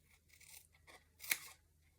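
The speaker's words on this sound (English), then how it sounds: "So I'm cutting right through the sticker and the backing paper," Scissors snip through a sticker and its backing paper, giving a few soft crinkly cuts followed by one sharper, louder snip, close and quiet with no talking.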